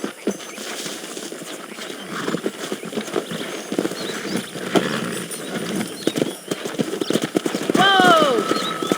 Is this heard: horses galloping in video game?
yes